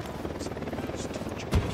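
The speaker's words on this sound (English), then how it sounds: "Unidad chopper, stay low." A helicopter in the video game Ghost Recon Wildlands gives a steady, loud rotor thump and engine drone that fills the whole stretch, with a brief louder burst near the end.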